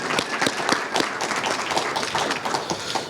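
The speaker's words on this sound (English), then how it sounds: "Can we have a round of applause for our sponsors" A crowd at a business chamber leadership event in Atlantic City applauds, with steady dense clapping at fairly close range and a few sharper claps standing out, sustained throughout.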